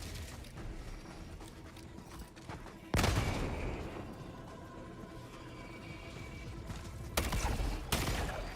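Video game weapon test: gunshots ring out over a continuous mechanical rattle, with two louder, sharper blasts standing out, one early and one late.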